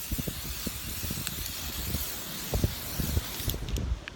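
Italian sunscreen spray hissing out of a can before a dip in the sea, a steady airy spray with soft handling knocks and rustles, quiet and close, no talk.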